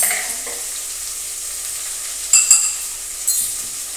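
Okra fries in a pan with red chilli powder, coriander-cumin powder and turmeric, a steady close sizzle broken by a few louder scrapes and clinks as the pieces are turned.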